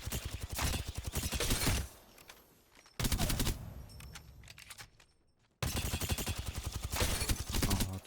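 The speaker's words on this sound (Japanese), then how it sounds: "射撃訓練場で打ってみたいと思います" Rapid gunfire bursts at a shooting range in a video game, played with a Flydigi Vader 4 Pro controller, loud and close, in several strings separated by short quieter gaps.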